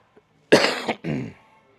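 A single close, sharp cough followed by a brief throat clearing, then quiet.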